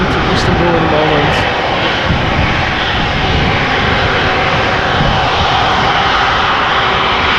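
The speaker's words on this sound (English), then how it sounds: "Turkish Airlines flight 1952, going to Istanbul in a moment" A Turkish Airlines Airbus A330-300 jet departing Schiphol roars loud and steady at close range, a broad continuous engine rumble with no break throughout.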